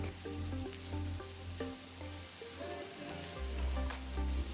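Ridge gourd pieces with the skin still on, roasting in a pan for Andhra-style chutney: soft continuous sizzling and crackling, fairly quiet, with music playing over it and no speech.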